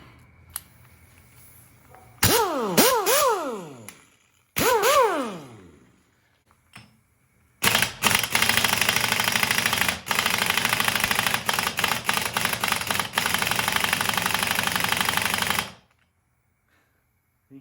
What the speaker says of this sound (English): All right, full pressure on the air compressor.